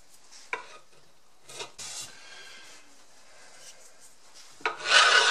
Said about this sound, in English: a paint scraper works reasonably well for that